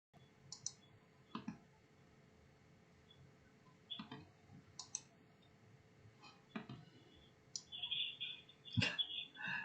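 A computer mouse clicking while a Zoom meeting is launched and installed, a few sharp, isolated clicks spaced seconds apart in a quiet room.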